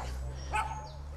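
A dog by a river during float fishing gives a single short bark or yip, moderately close, over a steady low hum of the outdoor background.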